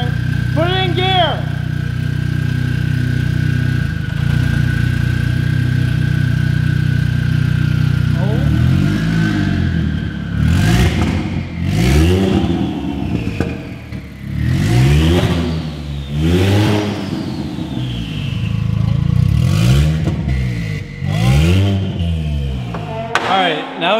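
A rear-wheel-drive-converted Golf GTI engine revs hard in repeated bursts, climbing and dropping in pitch after a brief idle, loud and close as the driver tries to spin only the rear tires.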